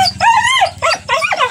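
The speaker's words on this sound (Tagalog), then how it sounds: "salubong na naman yung ating mga alagang aso" Pet dogs bark and yip excitedly in greeting, several quick high, whiny barks in short bursts, close and loud, with no talk.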